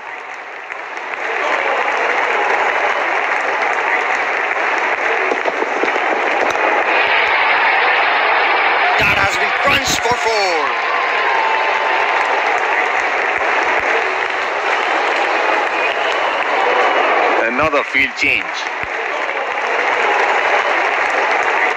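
Crowd at a day-night Test cricket match with Bangladesh batting, clapping and cheering in a broad, sustained wash across the whole stretch while a commentator talks over it.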